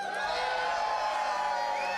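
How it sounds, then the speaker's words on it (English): A crowd in a hall at the World Oyster Opening Championships cheers and whoops together, a dense, sustained roar of voices heard at a moderate distance. "Can we have a big cheer, everybody, please?"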